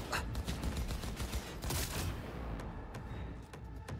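Rapid bursts of gunfire in the video game Cyberpunk 2077 crack in quick succession, sharp and fairly quiet, with a few isolated shots trailing off at the end.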